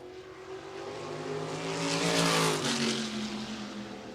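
A USAC race car circles Winchester Speedway on a warm-up lap, its engine drone rising in pitch as it swells closer and peaks mid-pass, then fades away again, heard alone with no talk over it.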